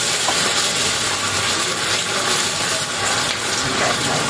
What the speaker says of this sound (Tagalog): Tapos maglagay tayo ng konting tubig.